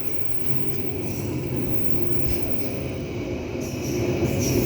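A train rolls past at Cimahi station in Indonesia, a loud, steady rumble of rail wagons with faint high wheel squeals drifting over the top, close by and unbroken.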